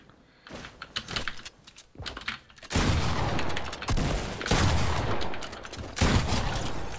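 Gunfire in the video game Fortnite comes in sharp bursts and rapid volleys, starting sparse and quiet, then turning loud and dense with short pauses between salvos.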